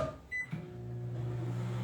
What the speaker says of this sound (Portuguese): Mais um pouquinho aqui no nosso micro.